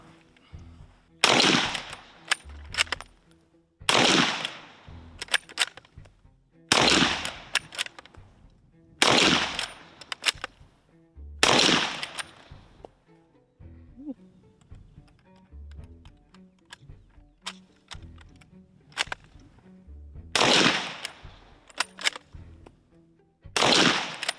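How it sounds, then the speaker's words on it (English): A Krag-Jorgensen rifle is fired five times, reloaded, then fired three more times, with sharp, loud, close shots at a steady rhythm and a run of metallic clicks and clacks from the bolt and cartridges between volleys. "shoot all 5, and then reload and shoot 3 more"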